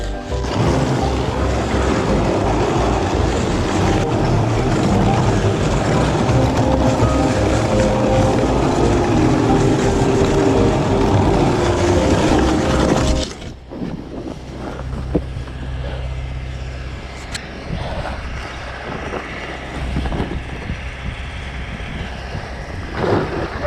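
A 5000 W electric mini snow bike strains uphill, its loud whine and wind rush filling the first thirteen seconds before cutting to quieter, rustling outdoor sounds.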